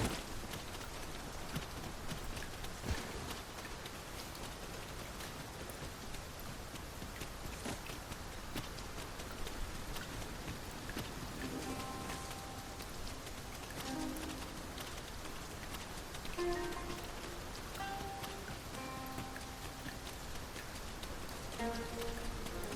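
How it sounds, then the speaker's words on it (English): Steady rain patters on surfaces for a long stretch in the video game Dragon's Dogma 2, dense and even, with faint hoof-like clopping and soft footsteps in the background. "'Tis raining cats and drakes"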